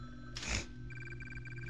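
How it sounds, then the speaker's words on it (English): A telephone rings in the video game Mario The Music Box, a repeated electronic trill pulsing steadily after a brief loud clatter, heard alone with no talking. "The phone is ringing."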